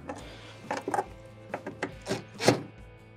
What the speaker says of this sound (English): Now, just do one click on each one of them.